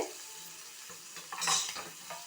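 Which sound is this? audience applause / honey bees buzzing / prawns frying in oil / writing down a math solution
prawns frying in oil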